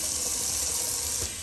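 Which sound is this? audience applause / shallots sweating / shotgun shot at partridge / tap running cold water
tap running cold water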